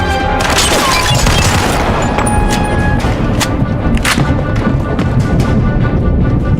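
Gunfire from the video game Mafia II, a dense barrage of loud booming shots and impacts layered over a constant roar of battle noise.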